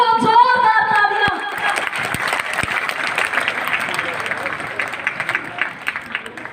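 Loud sustained applause from an audience at a school annual function, cheering on the children performing, with a brief voice at the start before dense clapping fills the rest.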